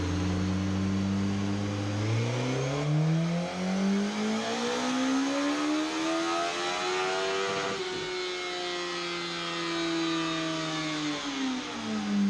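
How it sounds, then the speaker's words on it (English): A Suzuki GSX-S1000F on a dyno with a fuel-air probe in the exhaust revs up in a long sweeping pull. The engine note climbs to a peak, then falls away and holds, loud and alone. "What we did do was a dyno run with a fuel air probe in the exhaust"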